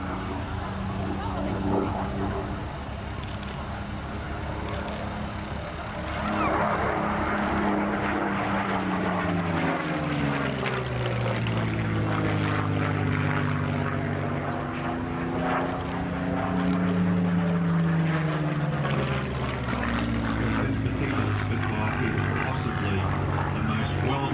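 Spitfire MH434 propeller aircraft flying past over trees at an air festival, a sustained rising and falling engine drone whose pitch sweeps down as it passes, loud and continuous, with a voice commenting throughout.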